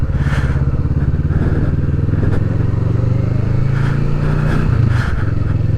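A 2020 Kawasaki Vulcan S with a 650cc water-cooled twin-cylinder engine runs at a steady, loud idle close by. Its throbbing rumble holds throughout with no talking.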